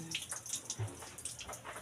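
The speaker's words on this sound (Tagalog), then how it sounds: "Pasensya na kay gamay hinig ang tubig." Water runs from a tap in a home kitchen, a thin, weak trickle with soft splashing and a few brief drips over a couple of seconds.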